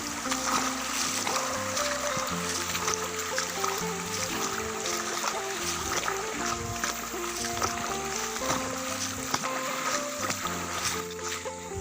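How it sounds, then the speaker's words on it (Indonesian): A swift, rushing river in a forest near Kampung Semurut pours in a steady, continuous roar of turbulent water, with a faint low mechanical hum underneath. "Suara airnya dengarkan."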